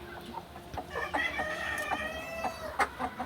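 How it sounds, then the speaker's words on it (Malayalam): Several native country chickens cluck and call nearby, overlapping bursts of squawky clucks with a longer drawn-out cry, no voices. "നാടൻ കോഴിയാണ് മുഴുവനും നാടൻ കോഴി തന്നെയാണ്"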